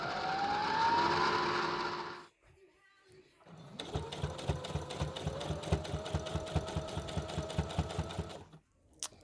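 A sewing machine winds a bobbin in two bursts: a steady rising whir first, then after a short pause a longer run with a fast, even mechanical ticking, heard close and alone.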